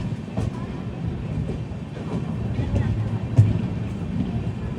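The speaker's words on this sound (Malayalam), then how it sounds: "ജമ്മു കാശ്മീരിലെ ഏറ്റവും വലിയ നഗരമായ ജമ്മു താവി റെയിൽവേ സ്റ്റേഷനിലേക്ക് ഇതാ ട്രെയിൻ എത്തുകയാണ്" Himsagar Express rolling into Jammu Tawi railway station, a continuous low rumble of wagons with soft rhythmic wheel clatter and one brief louder knock, heard from on board the moving train.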